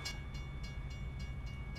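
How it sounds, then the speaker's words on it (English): Train rolling past in American Truck Simulator, a low steady rumble with faint rhythmic clicks recurring about every third of a second, heard alone at low level. "Guess what we have coming? A train."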